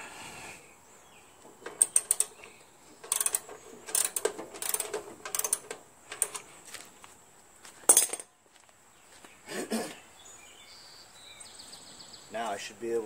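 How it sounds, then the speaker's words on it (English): A 1/2-inch ratchet works on a fastener on a Jacobsen Imperial 26 dual-stage snow blower with a 6HP Tecumseh engine, giving bursts of close metallic clicking in short irregular runs between pauses and clanks, with a few faint voices. "1/2-inch ratchet."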